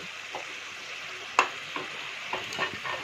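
Pre-fried fish heads are stirred in a pan, a soft, low sizzle with a few quiet taps and scrapes from the spoon at irregular intervals.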